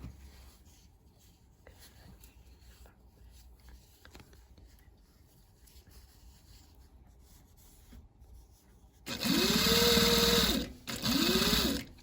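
After a long quiet stretch of faint handling, a sewing machine stitches over a bulky seam on a bag in two loud, close bursts with a brief pause between them.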